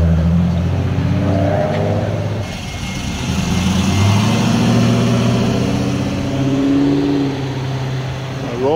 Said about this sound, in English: The clean ass Miata.